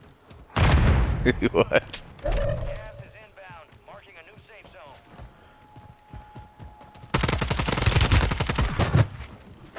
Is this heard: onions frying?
no